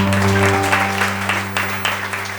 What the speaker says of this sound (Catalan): un aplaudiment pels del Papiol